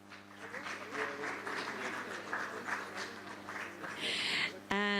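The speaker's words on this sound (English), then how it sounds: "Let's give them a round of applause." An audience at an education conference in Dubai applauds as a panel host is welcomed to the stage, with moderate clapping and background murmur before a brief musical tone cuts in at the end.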